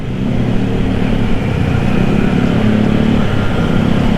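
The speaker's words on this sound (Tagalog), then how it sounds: "Ganda ng motor niya, oh. Oh, ADV ba to?" A Honda ADV scooter's engine runs steadily on the road, a continuous mid-pitched motor drone with traffic rumble, fairly loud and unbroken throughout with no talking.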